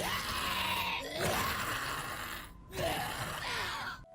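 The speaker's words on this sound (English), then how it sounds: "to update on what I said in my previous video regarding zombie screams" Harsh, rasping zombie screams from the video game Project Zomboid, two long howling shrieks separated by a brief silence, loud and close with a gasping, groaning texture.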